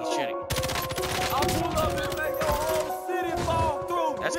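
An enemy fires in a video game: loud, dense bursts of rapid gunfire crackle almost without pause, close and sustained, standing alone.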